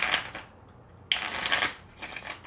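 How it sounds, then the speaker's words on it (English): Tarot cards being shuffled in two quick riffling bursts separated by a short pause, crisp and close, followed by a softer third flutter, with no speech over them. "I really wanted a good shuffle there."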